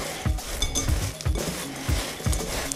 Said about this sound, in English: Just give them a bit of a stir.